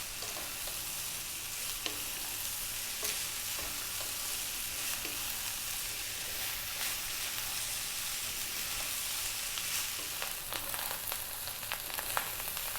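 Rice and chana dal fry on high heat in a pan, a continuous dense sizzle with frequent scraping and clicking stir strokes throughout, close and without talk.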